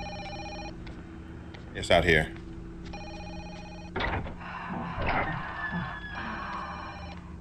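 A telephone rings repeatedly in the horror video game Fatal Frame: Maiden of Black Water, steady electronic trills that pause between bursts while people talk over them and a sharp noise cuts in.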